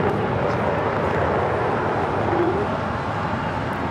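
A Volaris Airbus A320 Neo airliner arriving at LAX, heard as a steady, broad jet roar that stays even throughout, with no talk over it.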